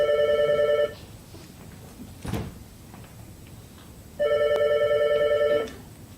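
A telephone rings in a staged theatre play, two electronic trilling bursts separated by a pause, with a soft knock or thump in between.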